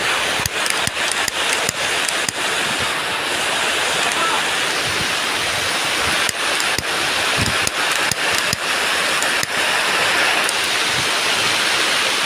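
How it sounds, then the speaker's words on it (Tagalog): Heavy rain pours steadily in Quezon with a dense, hissing roar, broken by occasional sharp taps and knocks, with no voices. "Tuloy pa rin po kahit malakas ang ulan."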